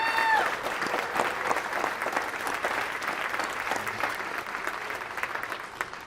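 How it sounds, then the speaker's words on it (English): A conference audience applauds award winners at a planning chapter awards ceremony, giving a sustained, dense round of clapping from many people in a hall, fairly loud and continuous from start to finish. "let's get one more round of applause for the awards committee"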